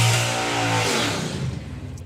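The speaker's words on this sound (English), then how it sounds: "it is that wonderful Flathead slingshot. There you go, you can hear it." Flathead-engined slingshot dragster at a nostalgia drag race, a loud close engine roar with strong harmonic revving that drops in pitch and roughens as it fades, with no talk over it.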